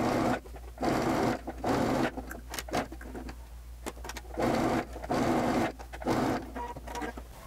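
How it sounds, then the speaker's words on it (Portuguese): A sewing machine topstitches along the edge of a dress seam, its motor whirring in repeated runs of about a second each, separated by short pauses and softer handling noises, fairly close and moderately loud. "Aqui eu vou fazer um pesponto em todo o contorno dessa costura"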